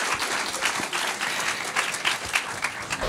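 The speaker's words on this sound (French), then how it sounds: "vous pouvez l'applaudir" An audience at a TOP FAB season 2 launch event claps steadily, a dense sustained round of applause from a sizable crowd.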